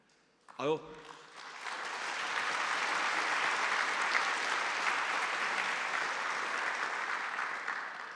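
A brief spoken word gives way to audience applause at the Conservative Party Conference 2018 that swells and holds steady for several seconds, a broad wash of clapping from many hands.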